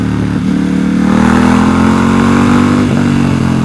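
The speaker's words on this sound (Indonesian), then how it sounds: "Sumpah suara knalpotnya tuh agak mirip men sama V-twin Harley." Ducati XDiavel cruiser motorcycle with a V-twin exhaust revving, a loud, close, continuous throaty rumble that rises and falls through several throttle blips, with no talking.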